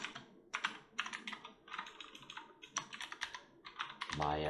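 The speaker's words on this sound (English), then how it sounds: "I'm going to type in my name" Fingers type on a computer keyboard in short quiet bursts of clicking keystrokes with brief pauses, close but soft, followed by a low hum at the end.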